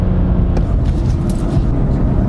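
A loud, steady car engine roar during a drift fills the recording, droning continuously at close range with a slight rise partway through.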